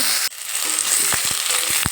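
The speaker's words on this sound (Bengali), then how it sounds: "এই তেলের মধ্যে পেঁপেগুলো দিয়ে দিলাম পেঁপেগুলো ভেজে নেব" Papaya pieces frying in hot mustard oil, giving a close, continuous sizzling hiss with a few soft thuds and crackles as the pieces settle.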